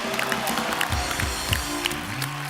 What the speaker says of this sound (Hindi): दित्या, योगेश और दीपाली के लिए जोरदार तालियां